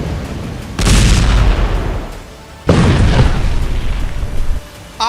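Explosions from Israeli rocket strikes on Gaza: two heavy, deep booms a couple of seconds apart, each followed by a long rumbling roar that fades, loud and without speech.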